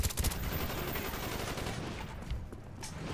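Suppressed FAMAS fire in Call of Duty Black Ops: a quick burst of muffled shots near the start, then a steady low rumble with a couple more faint cracks later, no talking.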